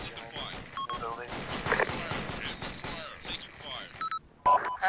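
Heavy gunfire erupts in a military shooter game, Arma II with the ACE mod, rapid bursts and single cracks scattered across the scene, mid-distance and fairly faint, with radio chatter and talk over it.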